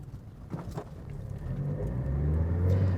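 Mazda NB2 with new Delrin door bushes driving, a close low engine drone and road rumble that swells as the car pulls away, no talking.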